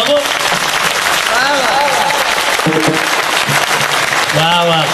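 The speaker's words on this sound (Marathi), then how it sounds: "आता हजारो भाविक किती टाळ्या जोरात झाल्या पाहिजे बघू." A large crowd of devotees at a Hindu kirtan claps loudly and continuously, a dense roar of applause with a voice calling out over it.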